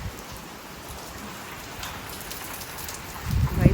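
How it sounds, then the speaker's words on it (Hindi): Heavy rain pours down outdoors in a steady, dense hiss that swells louder near the end, with a low rumble rising underneath. "फिर से तेज वाली बारिश एकदम से आ गई।"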